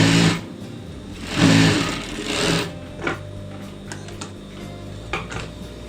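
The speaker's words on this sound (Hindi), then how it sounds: "यहाँ पे सिलाई करते रहना है।" A sewing machine stitches a lehenga's lining and outer fabric together, running in loud bursts that speed up and stop, with softer short stitching runs and faint clicks between them, heard alone without voices.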